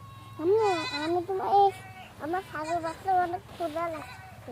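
Baby goat bleating repeatedly in short, wavering cries, close and fairly loud, with a low steady hum in the background.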